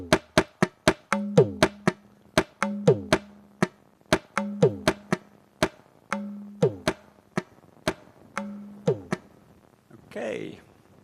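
Rhythmic spoken solkattu syllables, like a mridangam drum pattern, sound as sharp, evenly spaced percussive clicks with occasional sustained voiced tones in repeating cycles, ending in a short breathy burst; a voice imitates the drum.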